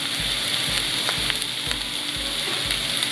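Veggie fried rice with vegetables and soy sauce frying in a flat layer in a pan, a loud close steady sizzle with a dense crackle and faint rhythmic soft bumps underneath, no talk.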